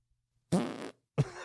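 Two short flatulent bursts, the first a longer buzzing blast and the second a quick sputter after a brief pause, close and loud against near silence.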